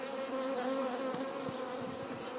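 Honey bees from a swarm buzz in a steady, faint drone as they are vacuumed into a medium box fitted with frames, with a constant hum running underneath the whole time.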